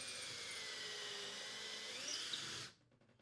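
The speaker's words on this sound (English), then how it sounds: "drill the 2 pilot holes when drilling into wood" A high-pitched power drill whirs steadily at close range for a few seconds, drilling pilot holes into wood, then cuts off abruptly into near silence.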